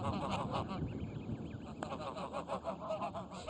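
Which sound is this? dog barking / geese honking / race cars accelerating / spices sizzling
geese honking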